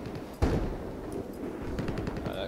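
Battlefield 4 hardcore match: a sharp gunshot cracks out, followed by a steady ambient wash and a few quieter, rapid distant shots; no talking.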